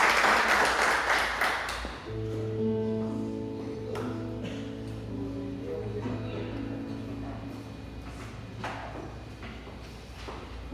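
A congregation at a church service applauds in a loud burst that quickly fades, then sustained keyboard chords hold steady with a few scattered claps.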